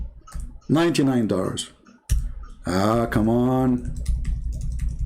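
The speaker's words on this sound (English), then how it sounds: "I'm typing. You see, it's not working." A computer keyboard with several keys that no longer work is typed on, its light, quick clicks mostly under someone talking and clearer in a short stretch of rapid tapping near the end.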